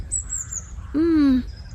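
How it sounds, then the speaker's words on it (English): Birds call outside in the morning: a thin high whistle and then a louder, nasal squawk-like note, both brief and fairly close, with no other sound. "Birds are singing outside, and a cool breeze sways the trees."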